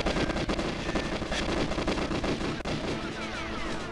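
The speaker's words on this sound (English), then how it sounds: "I hear a lot of gunfire." Dense, continuous gunfire from a custom mod of the GoldenEye 007 video game, a loud unbroken barrage of overlapping shots with no clear pauses throughout.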